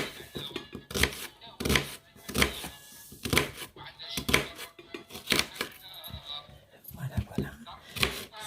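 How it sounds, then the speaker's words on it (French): A knife chops onion finely on a board while lamb head and vegetables are prepared, giving steady rhythmic taps about once a second, close and crisp, with a voice talking over the cutting. "Coupe l'oignon pareil."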